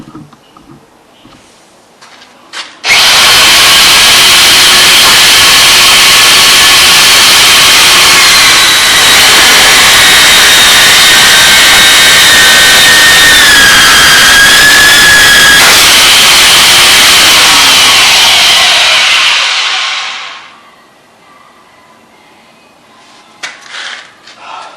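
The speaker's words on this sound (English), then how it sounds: "now we're back with the rotor broach, and we're going to drill these cover plate holes out" A Rotabroach magnetic drill cuts 8mm holes through a steel cover plate on a narrowboat diesel tank build. It gives a loud, continuous, harsh grinding whine with a shifting metallic pitch for about seventeen seconds, then spins down to quiet with a few faint knocks.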